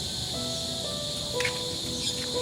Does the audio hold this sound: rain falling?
no